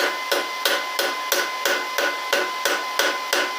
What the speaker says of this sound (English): Use a ball peen hammer just to, you know, do that.